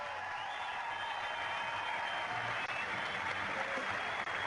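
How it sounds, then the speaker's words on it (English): Stadium crowd in Ostrava applauds at an athletics meeting as the Czech sprinter Jan Veleba is introduced before the 100m, a steady, distant, fairly faint wash of clapping and crowd noise. "Jan Veleba from the Czech Republic will get a warm welcome from this Ostrava crowd"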